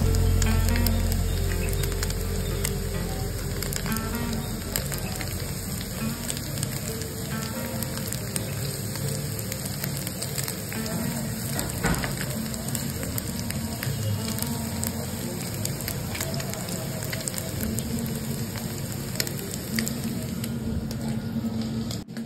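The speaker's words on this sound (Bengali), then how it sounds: "এবার পনিরগুলো আমরা উল্টে পাল্টে হালকা ব্রাউন করে ভেজে নিলাম।" Paneer pieces fry in a pan, giving a steady close crackle and sizzle like light rain, with occasional faint clicks, no talking.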